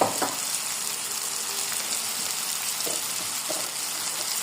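Meat sautéing in oil with ginger and garlic paste, a steady close sizzle broken by a few soft scrapes of a spatula, with no one talking.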